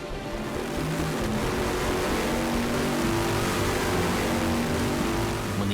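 Bugatti Veyron W16 engine of over 1000 horsepower running on an indoor test stand, a loud, steady, dense roar that holds at a constant level throughout.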